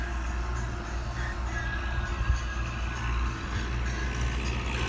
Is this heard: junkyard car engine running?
yes